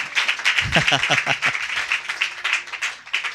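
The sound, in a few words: audience applause in church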